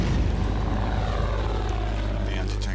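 A tactical bomber in the WW2 strategy game Order of Battle gives off a steady, loud propeller-engine drone that holds evenly throughout with no pauses.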